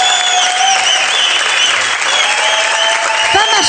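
A studio audience claps steadily and loudly at a Tunisian television singing show, with sustained music and a singing voice carrying over the applause.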